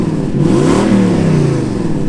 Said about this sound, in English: So here is my Lexus LS400, which has the 1UZ V8 engine in it.